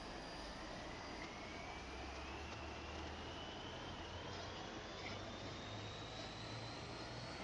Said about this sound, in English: This plane needs almost the whole runway to take off fully loaded.